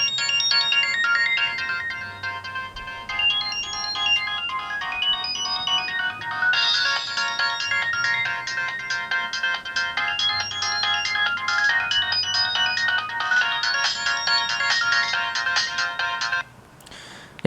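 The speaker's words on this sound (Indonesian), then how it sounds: "Ya buat di ringing volumenya dia sebenarnya sih udah lumayan kenceng guys ya." A Nokia 7610 phone plays a polyphonic MIDI ringtone, a bright continuous electronic melody with layered notes, loud and steady for most of the clip before cutting off near the end.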